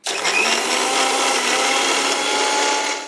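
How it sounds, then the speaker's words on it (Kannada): A kitchen mixer grinder whirs loudly and steadily for about three seconds, blending tender coconut water with salt, mint, ginger and honey, with no talking over it. "ಈಗ ಇದನ್ನು ನಾವು ಕಂಪ್ಲೀಟಾಗಿ ಮಿಕ್ಸಿ ಮಾಡ್ಕೊಳ್ಳೋಣ"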